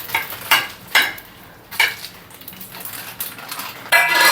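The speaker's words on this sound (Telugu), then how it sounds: "ఈ ఎండుమిర్చిని ఇలా ఆయిల్లో వేసుకోవాలి" Ten to fifteen dried red chillies tossed in oil in a pan, heard as several sharp metallic scrapes and clinks in bursts, with a low frying hiss in between, close up and without talk.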